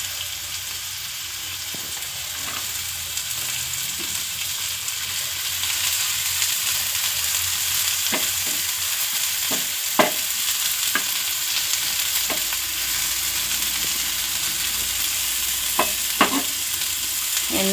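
Sliced onions fry in about two spoons of oil in a pan for an egg omelette, a steady close sizzle dotted with scattered light clicks of the spatula stirring.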